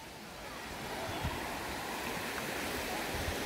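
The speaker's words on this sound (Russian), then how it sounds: "какая-то холодная вода вот отсюда течет" Cold water trickling across a beach at a Turkish seaside hotel, mixed with surf, a continuous soft rushing with faint intermittent sounds.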